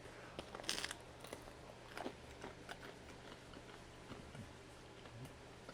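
Quiet, close crunching as someone bites into and chews crunchy homemade garlic knots, a few scattered crisp snaps at first, then softer chewing.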